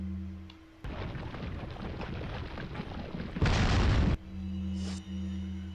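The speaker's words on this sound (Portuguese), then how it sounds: "Vou jogar outra granada ali" A grenade blast in Resident Evil 4 bursts as a loud, broadband explosion lasting under a second, preceded by dense crackling game noise and followed by a low rumbling hum.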